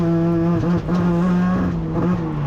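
A rotary-engine race car screams along during a 12-hour endurance race, its high, buzzing engine note holding steady near the microphone with a brief dip as it shifts or lifts.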